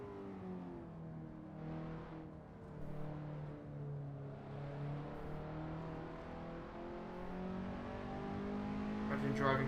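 A Skip Barber open-wheel race car engine at Zandvoort in a racing video game, a buzzing drone that holds steady and then climbs in pitch as it revs, under faint talk.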